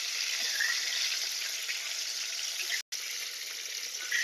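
Pointed gourd (potol) sliced and frying with only salt in a pan over medium heat, a steady close hiss of oil that runs throughout with one brief cut near the end.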